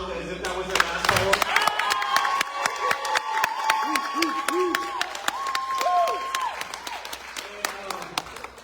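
An audience claps and cheers for a poet at a poetry reading and book launch, with scattered sharp claps, whoops and voices calling out over a steady crowd noise.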